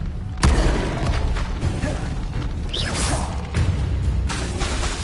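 Incendio fire spell cast in Hogwarts Legacy, a sudden whooshing burst followed by crackling, rumbling game effects and another flare later, with brief spoken spell names.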